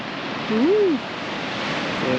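Ocean surf on the rocky Asturian coast, a steady broad wash of waves rolling on throughout with a brief voice-like tone rising and falling in the middle.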